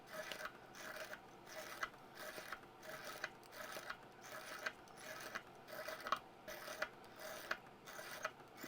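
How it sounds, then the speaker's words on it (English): Someone tightens a pearl picker mechanism at close range, giving a faint, repeated scraping and ratcheting rasp in steady short bursts, roughly every half second, with no talking. "So I'm just tightening up my pearl picker."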